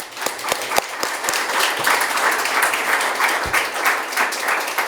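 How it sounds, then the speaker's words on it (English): A symposium audience applauds presenters, opening with a few scattered claps that quickly swell into a full, steady round of applause, moderately loud and near. "Please give them another round of applause."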